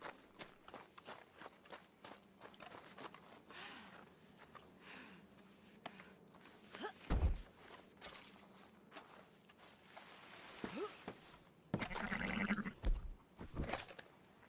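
Sheep and other livestock in Red Dead Redemption 2, with scattered bleats and hoof clatter over a quiet outdoor ambience, louder bursts around the middle and near the end.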